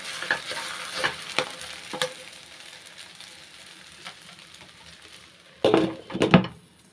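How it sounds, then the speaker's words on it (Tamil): Okra sizzles steadily in hot oil, with a spoon scraping and stirring the pan, the clatter growing busier toward the end. "வெண்டைக்காய் வந்து அந்த எண்ணெயிலே நல்லா வதக்கிக்கிறணும்"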